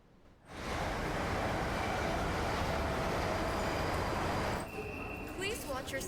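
Steady rumbling rail carriage interior on a moving train, a loud continuous roar with faint tonal hums, easing off near the end; no announcement voice is clearly evident over the noise.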